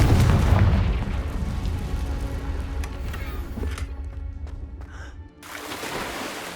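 A Confringo spell explosion from the Hogwarts Legacy video game, heard as a loud, booming low-end blast at the start that rumbles and fades, followed by quieter game ambience and a smaller burst near the end.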